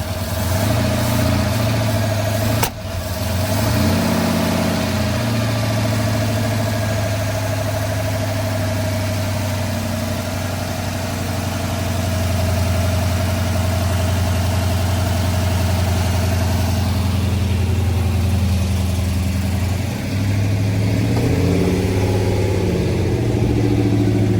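A car engine idles at low RPM with a steady, loud drone that carries a rough, uneven misfire and shake, running continuously for over twenty seconds with small shifts in tone and no talking.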